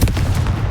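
A Confringo fire blast spell cast in Hogwarts Legacy, a short booming burst that is loud and close, alone without talk.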